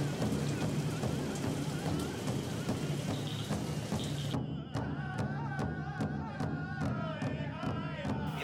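Heavy rain falling at night on a campsite in the Florida Everglades, a dense steady hiss with scattered drips and taps, continuous and close throughout.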